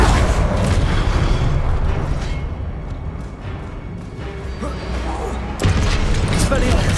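Expelliarmus spell casting in Hogwarts Legacy, heard as a heavy booming, rumbling magic blast with a fresh loud surge near the end, and a voice speaking over it.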